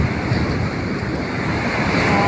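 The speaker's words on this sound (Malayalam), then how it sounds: "തിരതായിട്ട് കാലിലൂടെ പോകുന്നുണ്ട്." Sea waves surging and washing around feet at the shore, a loud continuous rushing wash of surf with heavy wind buffeting the microphone and no talking.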